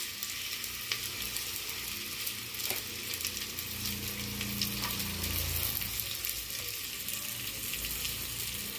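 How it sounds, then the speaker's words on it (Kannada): Onions dropped into hot oil for a homemade mushroom biryani, a soft constant sizzle with faint crackles and a low rumbling hiss, quiet and close, no talking. "ಕಾದಿದೆ, ಈರುಳ್ಳಿ ಹಾಕ್ತೀನಿ."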